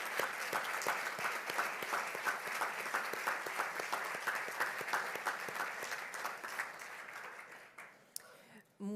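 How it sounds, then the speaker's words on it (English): An audience at a university campaign talk breaks into applause, a sustained, even patter of many hands clapping that carries on for several seconds before tapering off near the end. "I think that we can pause here for some applause"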